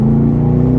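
A loud, deep V8 engine rumble from a Chevy SS sedan drones steadily at close range, a brief burst of throaty growl while revving, with no other sounds.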